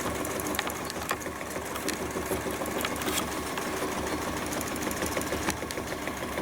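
A sewing machine stitches bleachwork fabric with a steady, fast mechanical whir and rapid needle ticking, close and continuous with no talking.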